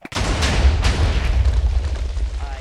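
A small repulsor blast goes off in Minecraft with the Superheroes Unlimited mod, a sharp onset followed by a low, rumbling boom that stays loud and steady for a couple of seconds with no talk over it.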